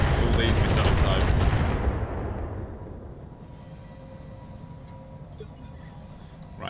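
Missiles slam into a mech in the BattleTech 4v4 assault mech brawl, a loud dense burst of explosive impacts that fades into low rumbling and faint metallic clinks; no speech.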